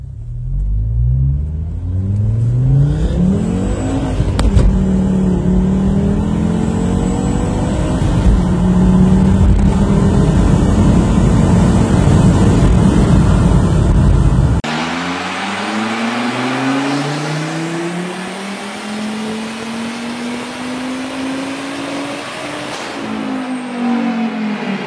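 A five-cylinder turbo engine revs hard and loud, the pitch climbing and falling across several rises, then after a sharp cut a second run sweeps up steadily with no talk over it.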